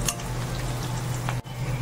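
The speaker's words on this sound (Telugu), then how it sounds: "ఈ కరివేపాకు కూడా ఈ పచ్చదనం అంతా పోయి కొంచెం క్రిస్పీగా అయ్యేంత వరకు కూడా మనం ఈ పోపుని సిమ్లో పెట్టుకొని స్టవ్ సిమ్లో పెట్టుకొని వేయించుకోవాలి." Curry leaves frying in hot oil for a tempering on a stove set to low flame, a close, dense sizzle with a low hum beneath and a brief dip near the end.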